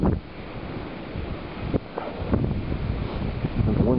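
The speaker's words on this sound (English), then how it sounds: "This intersection's extremely windy." Strong gusting wind at a city intersection during the December 2010 New York blizzard, buffeting the microphone with steady roaring rumble and sharper bursts throughout, loud and close.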